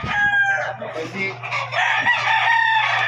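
Several chickens clucking and a rooster crowing close by in a shipping holding area, overlapping calls over a steady low hum, with a busy farmyard feel.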